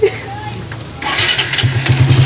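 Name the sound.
repaired motorcycle engine starting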